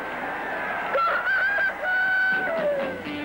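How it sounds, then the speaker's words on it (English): A rooster crows a long, drawn-out call that rises and then trails downward, close and clear against a steady background hum, in a 1950s–1960s television beer commercial. "here comes Brewster. Brewster, the Goble Rooster."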